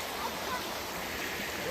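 Mountain stream at Jatashankar flowing over slippery rocks, a steady broadband rush of water that stays constant and fairly loud throughout, swelling slightly at the end.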